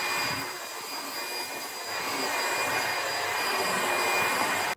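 A Dyad Pro wet and dry vacuum runs on its max setting, a loud continuous whooshing roar with a high whine that holds steady for several seconds, then cuts off abruptly.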